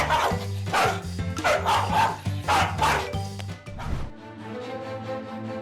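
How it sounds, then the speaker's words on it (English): A dog barks in rapid bursts during a fight with a chicken, loud and close with yips mixed in, while a steady musical tone runs underneath. "The argument between the dog and the chicken seems endless."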